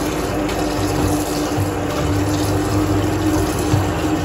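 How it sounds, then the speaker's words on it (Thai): Tap water runs steadily while raw pork is washed for moo krob, a constant close rushing flow with a low hum underneath, no talk. "ได้หมูมาเราก็ต้องการล้างก่อนนะครับผมนี่ล้างหมูมันหมูนะครับ"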